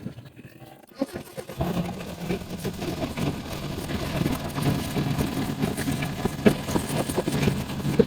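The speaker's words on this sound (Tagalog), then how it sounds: "pa-start muna natin para malaman natin kung bakit siya palyado" A Mitsubishi Adventure with a 4G63 engine cranks and starts, then keeps running rough and uneven with irregular misfiring knocks, close and fairly loud.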